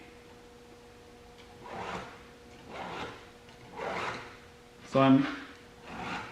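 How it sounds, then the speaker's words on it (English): A file dresses the chain of a Ryobi C4618 chainsaw clamped in a vise, giving several separate rasping strokes at an even pace, close and moderately loud, while someone speaks briefly. "I'm dressing the chain with the same amount of strokes per chain, so 3 times."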